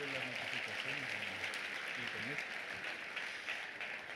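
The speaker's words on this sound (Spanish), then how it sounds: "Dele ese aplauso al Rey bendito." Church congregation applauding during a Spanish-language service, a steady wash of clapping throughout with voices talking underneath.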